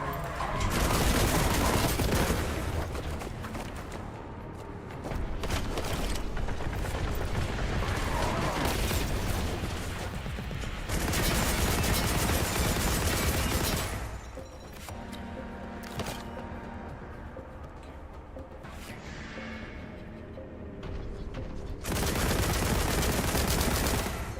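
Sustained heavy gunfire from Warhammer 40,000: Boltgun, a boomer shooter, roars in long loud bursts of rapid shots separated by brief quieter gaps across the whole stretch.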